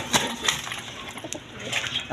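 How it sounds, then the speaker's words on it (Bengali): A pair of big red Gorra pigeons with two chicks give soft, brief coos and rustles, faint and close, over a short moment. "এখানে এক পেয়ার কবুতর আছে দেখেন রেড কালার গররা কবুতর দুইটা বাচ্চা সহ নিতে পারবেন"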